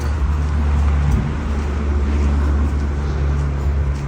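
Cars go by on a Melbourne street, a BMW and a Ford among them, producing a steady, fairly loud low rumble of road traffic with no distinct pass-by peaks over the four seconds.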